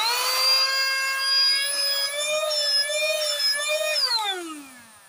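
Portable cordless vacuum cleaner switched on, a loud steady high-pitched motor whine with strong tonal harmonics that holds for about four seconds, then winds down as it is switched off.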